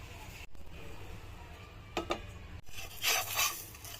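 A pizza is set down on a tawa griddle in a home kitchen, giving a few brief metallic scrapes and clinks against the pan over faint background noise, with someone speaking around it.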